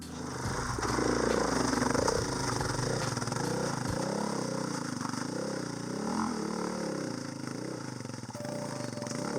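A Honda CRF450L dirt bike engine runs steadily on a trail, its low, even drone holding at a constant level throughout with no voices.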